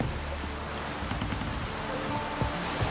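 Steady rain falling in The Witcher 3, a dense, even patter of drops on surfaces with a few louder splashes, constant and close with no talk over it.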